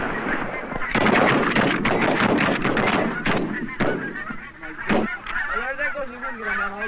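Wild geese honk loudly and continuously as they approach decoys on a waterfowl hunt, a dense overlapping chorus of calls lasting throughout, with harmonic calls standing out near the end.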